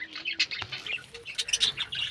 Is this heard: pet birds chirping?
yes